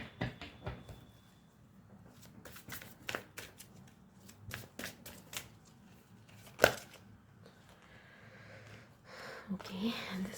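Tarot cards being shuffled and drawn: a quick series of crisp, papery riffles and flicks, some sharp and close, with soft whispery handling between them and a louder snap near the middle.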